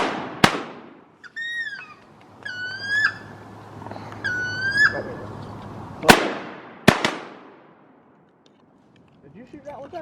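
Shotgun blasts boom during a cold-morning wood duck hunt, one early shot and then two close together later, loud and sharp, with duck whistles calling in between and people talking faintly at the end.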